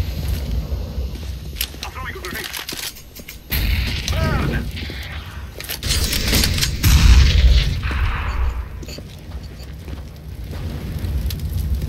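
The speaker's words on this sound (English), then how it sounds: "I'm throwing a grenade." Grenade thrown in the video game CS:GO, going off as a deep, rumbling boom partway through amid busy in-game noise, with players talking over it.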